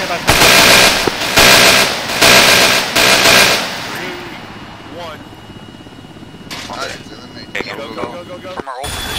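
Automatic gunfire bursts loud and close in an Arma military game, several rapid volleys in the first four seconds, then scattered distant shots and radio-style voices talking over the battle.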